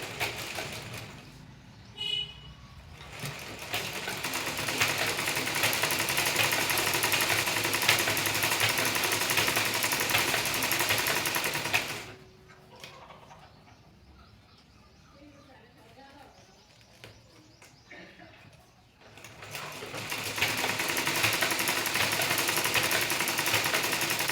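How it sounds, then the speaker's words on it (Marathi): A picot sewing machine hemming the edge of a sari fall runs as a steady close mechanical whir, stops for several seconds, then starts again. "या साईडने आपण पिकोची मशीन लावून घेऊ आणि हा पिको करून घेऊ"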